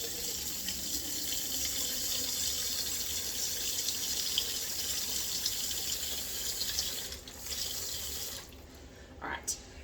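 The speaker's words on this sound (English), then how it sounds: "we're going to fill up to this little ring here with water" Tap water runs steadily into a plastic container, a constant rushing splash close by that breaks off briefly near the end.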